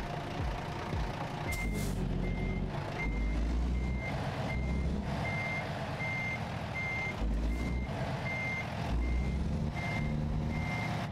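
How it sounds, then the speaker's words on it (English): A truck reverses during a three-point turn, its high reversing alarm beeping at a regular rhythm over the low rumble of the idling engine, with a couple of brief hisses. "A 3-point truck turn."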